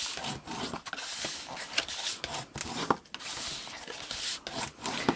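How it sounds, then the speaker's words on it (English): Cardstock being burnished for a papercraft box: soft, irregular rubbing and scraping strokes, close and fairly quiet, with brief sharper scuffs scattered through. "I'm going to burnish these as well"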